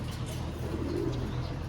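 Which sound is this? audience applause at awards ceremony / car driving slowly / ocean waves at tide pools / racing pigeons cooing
racing pigeons cooing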